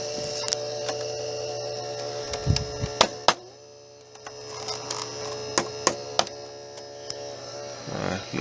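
A retro games console's cooling fan whirs with a steady low hum and faint buzzing, broken by a few sharp clicks and knocks from handling. The console sounds loud, with no talk.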